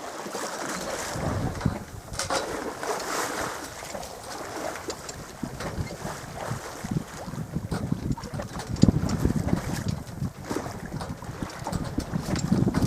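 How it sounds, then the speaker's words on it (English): Steady wind gusts buffet a sailboat out at sea on a breezy day, with a continuous rushing roar and waves slapping against the hull, close and loud with no talking. "It's breezy. It's a breezy day."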